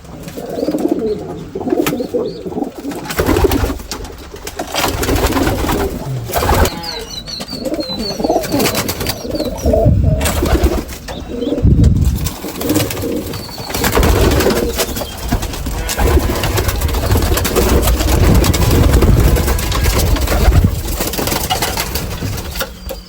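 Pigeons coo steadily inside a pigeon cage, several birds with overlapping low, throaty calls close by, along with rustling and some background engine noise.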